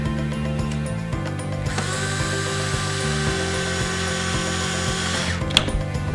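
A power drill drives a screw into a wooden birdhouse during assembly, its motor whining steadily for several seconds in the middle before stopping, over a constant low background hum.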